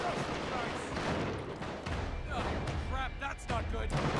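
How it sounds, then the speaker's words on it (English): Bursts of gunfire in the video game Uncharted 3: Drake's Deception, sharp cracks scattered through the clip beneath frequent shouting voices. "What are they shooting at?"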